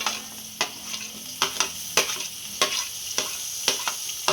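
Onion dropped into a pan with garlic already frying sizzles steadily, while a spoon scrapes and stirs in regular, sharp strokes close by with no talking.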